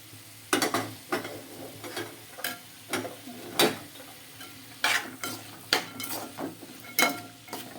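Boiled chana dal is stirred into a cauliflower curry in a pan, a spoon scraping and clinking against the metal in repeated strokes over a soft, steady sizzle, close and clear with no talking.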